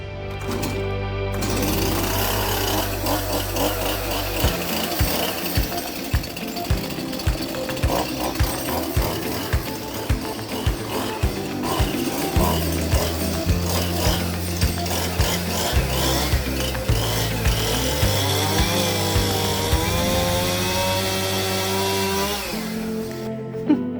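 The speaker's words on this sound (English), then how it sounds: "the easiest thing really is to use the chainsaw" Chainsaw cutting through wooden roof battens on a ruined Portuguese house roof, loud and close, the engine pitch dipping and surging as the blade bites and frees through the wood.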